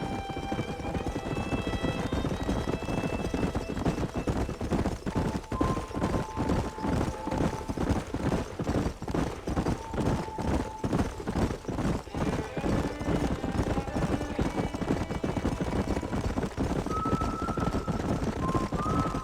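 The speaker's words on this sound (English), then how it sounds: "There's the horses!" Horses clip-clop in a steady rhythmic gallop with occasional neighs and whinnies in the Western video game Red Dead Redemption, loud and continuous, with game music tones over the hoofbeats.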